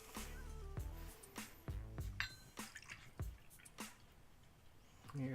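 Gin poured from a bottle into a mixing glass while building an old fashioned cocktail, a close run of glugging and dripping liquid pulses with a few brief splashes, heard alone without talk.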